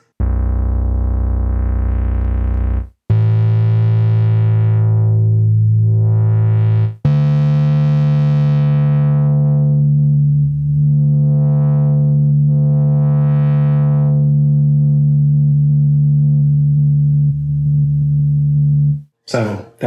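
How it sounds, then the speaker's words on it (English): A synthesizer tone built from a small audio sample on an MPC 1000 sustains loudly and steadily, changing pitch a few times and sweeping in brightness as if filtered, then ending with a brief click. "there we have a synthesizer, which is made from a small piece of audio"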